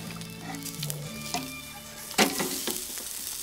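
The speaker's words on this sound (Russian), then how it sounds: "Вот это мы жарим." Steady sizzling of food frying in a pan, with a few clinks and scrapes of stirring near the mic and a sharper clatter partway through.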